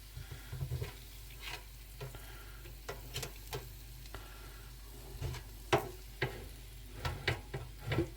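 Bacon fries in a pan for a traditional English breakfast, giving a steady low sizzle broken by occasional pops and crackles, close and fairly quiet, with no talk.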